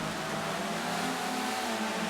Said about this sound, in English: Am I like the only one in a stock off-road sports classic car? Sports classic rally style car?